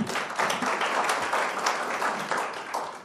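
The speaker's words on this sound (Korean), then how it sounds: "다시 한번 박수 부탁드립니다" Audience applause at a government innovation and blockchain forum after a presentation, a short, dense burst of clapping from a seated crowd.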